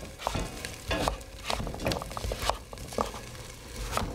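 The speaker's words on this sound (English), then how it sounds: "So we're just going to chop it up into little cubes here" Knife chopping butternut squash into small cubes on a cutting board while making Thai butternut and cilantro soup, with a steady run of sharp, close cuts roughly every half second and soft kitchen noise between them.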